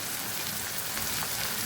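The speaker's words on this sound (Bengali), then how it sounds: "আমি এখানে বড় চামচে 1 চামচ আদা রসুনের পেস্ট দিয়ে দিচ্ছি" Ginger garlic paste hits hot oil in a pan with a steady, dense sizzle that stays even throughout, close and bright with no talking over it.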